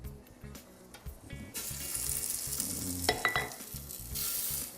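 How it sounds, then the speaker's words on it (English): Italian sausage sizzling in a frying pan over medium-high heat, a hissing fry with scraping stirs and a few utensil clinks, close and moderately loud, no voices. "So you use the good sausage, put it in the pan."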